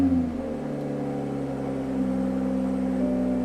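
A Toyota Supra engine catches after the stop-start button is pressed and settles into a steady, close idle hum that keeps going, with no voices.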